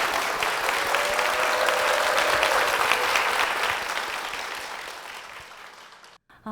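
A church congregation in Gwangju gives a big round of applause for their church and its senior pastor, strong clapping that swells, then gradually fades and stops.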